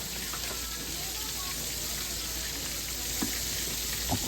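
Sea bass deep-fries in hot oil with a dense, steady sizzle and crackle close up, a few louder pops near the end, and no talking.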